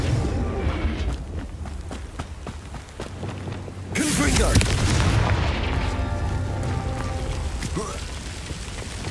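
A blasting spell explodes in the Hogwarts Legacy video game, landing as one sudden heavy boom partway through. A rumbling, crackling tail and some scattered game effects follow, and a voice speaks over it.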